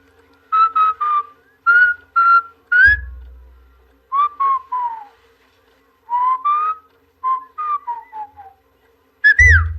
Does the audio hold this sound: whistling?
yes